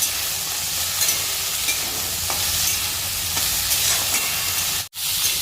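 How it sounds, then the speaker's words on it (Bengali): Winter vegetables being stirred in a pan with salt and broken green chillies, a steady sizzle with scraping stir strokes throughout, close and fairly loud, briefly cutting out near the end; no talking. "তিনটে কাঁচা লঙ্কা মাঝখান থেকে ভেঙে দিয়ে দেবে ভালো করে নেড়ে চেড়ে মিশিয়ে নেবে"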